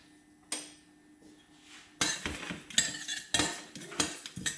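Coriander and cumin seeds toast in a pan, with a quiet background hiss broken by rattling, scraping stirs and sharp clinks of a utensil against the metal, growing busier toward the end.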